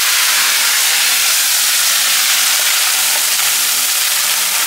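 Steady, loud sizzling hiss of onion paste frying in a hot pan, continuous and close, with no talking.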